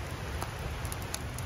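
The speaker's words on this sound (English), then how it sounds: "we're starting to get a little bit of like sleet, rain, snow" Rain and sleet falling outdoors at a snowy winter campsite in Oregon's wilderness, near a river, give a dense, steady hiss of fine pattering with a few slightly sharper ticks, with no voices.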